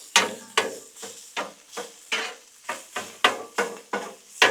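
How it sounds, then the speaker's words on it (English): Sausage is chopped and browned on a Blackstone griddle, with about a dozen regular scraping, clacking strokes of a metal spatula over a soft sizzle, close and clear. "It's time to start chopping up this meat. Some of this sausage right here."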